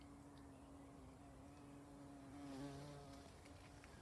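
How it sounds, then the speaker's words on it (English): Faint, quiet buzzing of bees around a tree peony in a garden, a soft steady hum that swells slightly midway, with no voices. "The bees are buzzing about the tree peony"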